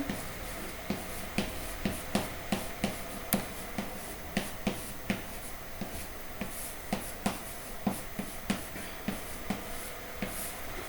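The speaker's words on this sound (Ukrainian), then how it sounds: "Записую вираз, який у мене утворився." Handwriting a math expression during a derivative lesson, with a steady series of short scratching pen or chalk strokes, fairly close and moderately loud, with no talking.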